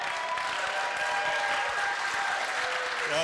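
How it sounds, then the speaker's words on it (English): An audience at a comedy show applauds in a steady, dense wash of clapping that fills the room and stays even throughout. "Sometimes they're nice to me, they just clap."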